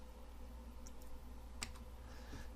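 Soft, quick clicks of typing on a computer keyboard in a quiet room, with a few sharper keystrokes standing out over a steady low background hum.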